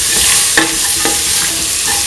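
Potato, ivy gourd and coconut milk stew is mixed in the pan, with several light scraping stirs over a continuous gentle sizzle, heard up close with no talking.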